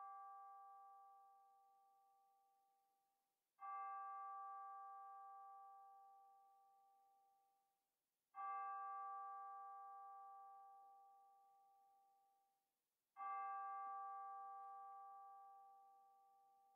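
A church bell tolls three slow, resonant strokes during silent prayer at a Congregational church's Sunday worship service, each strike ringing out and decaying for several seconds in otherwise quiet surroundings.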